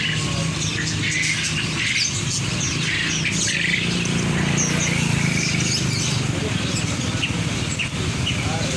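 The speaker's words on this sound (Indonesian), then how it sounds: "Ini guys suasananya di pasar burung pada bulan puasa." Caged birds squawk and chirp in a dense, continuous chorus at a bird market in Malang during Ramadan, with background voices mixed into the steady crowd noise.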